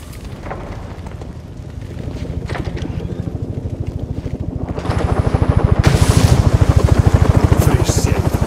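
Helicopter in Batman Arkham Origins, a rapid steady rotor chop that grows louder and fuller partway through, with rumbling engine noise underneath.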